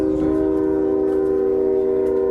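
A train horn sounding in a town, a loud steady sustained blast with strong harmonic tones holding throughout, heard alone without speech.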